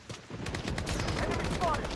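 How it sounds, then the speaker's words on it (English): Gunfire in the Blood Strike shooter game, a steady stream of rapid shots crackling throughout the two seconds, fairly loud and dense, with game voice or effect sounds mixed in. "Taking fire."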